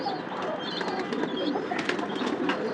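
Pigeons on a house rooftop give soft, repeated cooing calls over a steady, busy background hum, with a few brief wing flutters.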